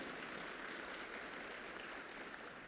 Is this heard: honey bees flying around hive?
no